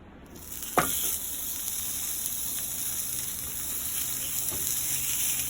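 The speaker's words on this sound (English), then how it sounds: "now we're going to sear this cactus" Cactus paddles searing on a hot pan give a continuous close hiss, steady and even from just after the start, with a sharp contact crackle near the beginning and faint occasional scrapes.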